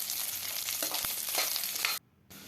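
Sliced onions frying in a pan give a steady, close, crackling sizzle that cuts out briefly near the end.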